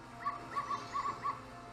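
Racing dogs at the doggy racetrack in the video game Majora's Mask give a string of short, high yips and barks over a soft game hum, with no one speaking.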